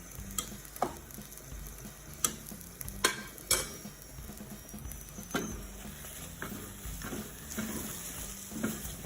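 A spoon scrapes and stirs margarine melting in a pan for matoke, with soft sizzling beneath irregular clinks and taps, fairly quiet and close.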